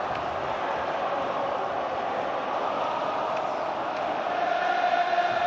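Stadium crowd at Anfield after Atletico Madrid's win over Liverpool, a steady distant murmur of many voices filling the ground as the stands empty, with no clear cheering peaks.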